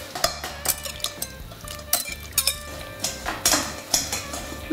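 Tomatoes are pressed through a sieve for a spicy tomato sauce, with quick scraping strokes of a utensil against the mesh and faint clinks in an irregular, brisk rhythm, close and fairly soft.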